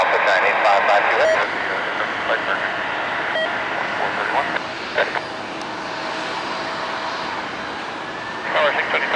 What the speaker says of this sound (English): 747 departing, runway 30 left